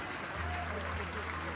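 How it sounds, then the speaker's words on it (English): A political rally crowd for a Canadian prime minister candidate claps in steady, dense applause that stays fairly faint and distant, with a voice speaking over it. "You guys can give a round of applause"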